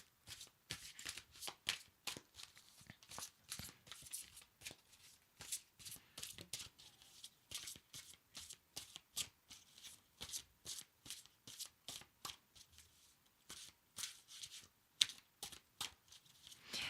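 Tarot cards being shuffled steadily, a long run of quick, dense riffling flutters and soft slaps, close and quiet, with no one talking.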